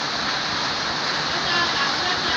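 Heavy rain in the mobile shooter Call of Duty Mobile pours as a dense, constant broadband hiss filling the whole scene, steady and loud throughout with no distinct drops standing out.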